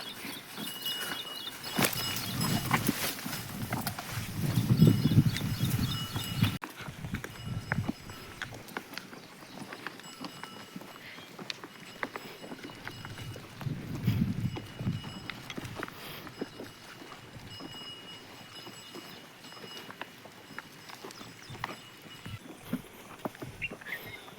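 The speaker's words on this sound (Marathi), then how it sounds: "बैल बघा आवाज ऐकले कसे" Hooves of bullocks pulling a wooden plough plod along in an irregular walking rhythm outdoors, with rustling background noise and no talking.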